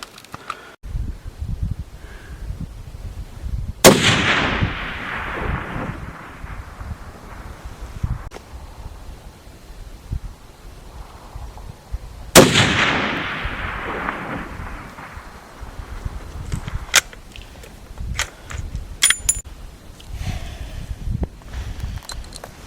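Two sharp, loud rifle shots from a stock Ruger M77 chambered in .300 Win Mag, fired outdoors at a steel plate at long range, each crack followed by a long rolling echo that fades over several seconds amid wind and rustling.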